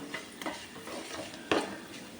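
Garlic and curry leaves frying in a tempering pan, a low continuous sizzle broken by soft stirring scrapes and one sharper clink of the spoon partway through; close but quiet, with no talk.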